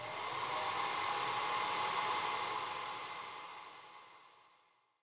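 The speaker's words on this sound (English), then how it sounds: "we've got a normal hairdryer here. I'm just going to take our base and just turn it onto a low setting." A standard hairdryer on its low setting blows a steady, loud broadband whoosh over crackle paint on a miniature base, continuous for several seconds and then tapering off as it is switched down.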